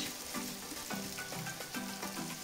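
An omelette with potatoes, sausages and tomatoes frying in a pan gives a steady close sizzle, with faint soft scrapes and shifting bursts now and then.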